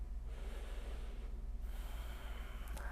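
Slow, deep breaths drawn during a yoga flow, a soft airy inhale and exhale heard close and quiet over a steady low hum, with no talking.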